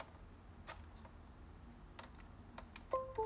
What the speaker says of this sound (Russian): Сейчас перейдем к тесту клавиатуры.